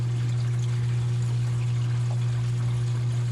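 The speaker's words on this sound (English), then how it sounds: "some water noise coming down the drain pipe" Water drains down a reef tank's drain pipe as a soft, continuous rushing wash, sitting under the loud, steady hum of a Mag Drive 9.5 pump that runs throughout.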